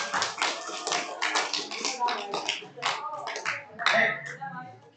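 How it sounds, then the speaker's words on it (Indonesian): A small group of listeners at a storytelling session gives quick, scattered hand claps, close and fairly light, tapering off after a few seconds with voices mixed in. "tepuk tangan kita semua"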